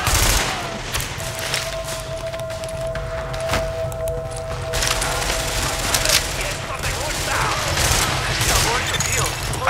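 Sustained automatic gunfire and turret fire in Tom Clancy's The Division, rattling steadily through the clip with dense bursts alongside in-game combat sounds, while a player talks over it.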